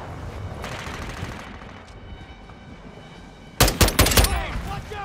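Gunfire in Call of Duty Modern Warfare II on the Lighthouse map: quiet background ambience, then a sudden loud, close burst of rapid shots in the last second and a half.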